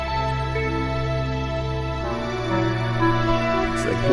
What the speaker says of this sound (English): And a space oboe.